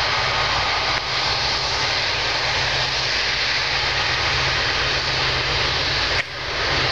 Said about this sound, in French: Magnifique avion, ça valait la peine d'attendre.